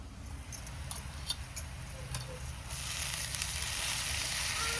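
Hot oil in a pan sizzles as edible flowers go in over onion, chili powder and turmeric, a steady bright frying hiss that swells louder midway and keeps crackling close up with no talking.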